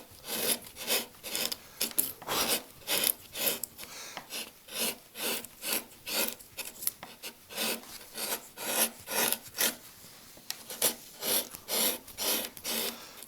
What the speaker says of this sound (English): Coming in from the side, I make this sort of slicing cut. So I'm going across the grain